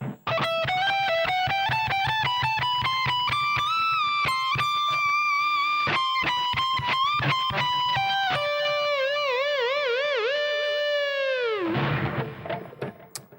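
A distorted electric guitar plays the closing phrase of a song's solo: quick picked notes climb, then a long held note wobbles with wide vibrato before dropping away into a brief fading tail, loud and alone.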